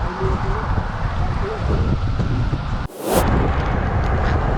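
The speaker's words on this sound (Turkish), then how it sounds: "Şu an rüzgarlı bir yolun ortasında" Strong wind roars and buffets the microphone outdoors on a road, a constant rumbling rush with a sudden sharp gust partway through.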